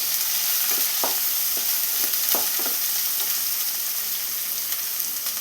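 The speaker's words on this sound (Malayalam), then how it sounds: "ഈ സമയം നമുക്ക് ഇതിലോട്ട് സവാള ഇട്ട് കൊടുക്കാം." Chopped onion sizzles steadily in hot oil for an egg and drumstick-leaf dry fry, with a dense continuous crackle and a few soft stirring knocks, close and alone with no voices.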